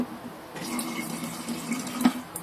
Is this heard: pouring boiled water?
yes